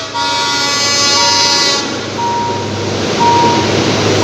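Thai ordinary passenger train No. 277, Bangkok Hua Lamphong to Kabin Buri, arriving with a loud sustained horn blast over its rumble, then continuing rail roar with shorter tonal hoots.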